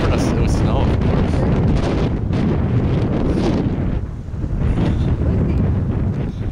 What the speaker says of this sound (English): Only the wind is blowing it.